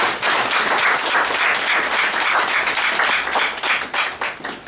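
At a Korean charity's inauguration ceremony for its new chairman, a seated audience breaks into warm, lively applause, with the clapping swelling quickly and staying steady before it tapers off.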